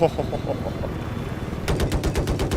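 Rapid helicopter gunfire in Battlefield 4 during a two-versus-one helicopter battle, a loud burst of about eight evenly spaced shots after quieter rumbling fire.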